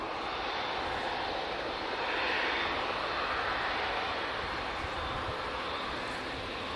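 A plane at Manchester Airport roars steadily through the whole stretch, a loud, broad engine rush that swells slightly midway, with no talk over it.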